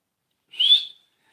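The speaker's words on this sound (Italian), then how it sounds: "Ecco, ho fatto il fischio" A single short whistled note from a person, rising and falling over about half a second, fairly loud and close, with no other sound around it.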